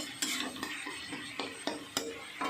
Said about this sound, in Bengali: এবার মশলাটাকে ভালো করে কষিয়ে নিচ্ছি